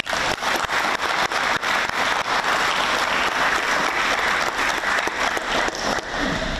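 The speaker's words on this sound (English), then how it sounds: "I believe this is deserving of an applause for the whole of Fiji." Loud, sustained applause from an audience during televised election results coverage in Fiji, a dense crackling wash of many hands clapping continuously with no speech over it.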